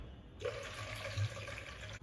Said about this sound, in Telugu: ఇప్పుడు కడిగేస్తాము శుభ్రంగా నీళ్ళు వంపేసుకుంటాయి